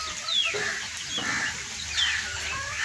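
A rooster and hens outdoors in rain, several overlapping clucks and brief calls repeating steadily over a constant hiss of rainfall, close and fairly loud.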